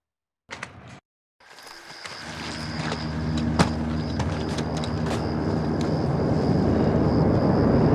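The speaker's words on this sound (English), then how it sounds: "Got a heli incoming." A helicopter approaches in Call of Duty MWII, its broadband rotor and engine roar swelling steadily louder after a few brief combat sounds at the start, ending close and dominant.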